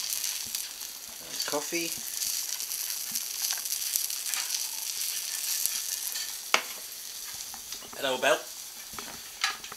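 Eggy bread sizzles and fries steadily in a pan, a continuous crackling hiss with a few utensil clinks, while a person speaks briefly over it.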